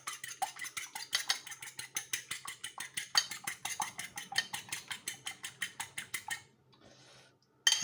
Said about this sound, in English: Now, got some egg, which we're gonna mix well.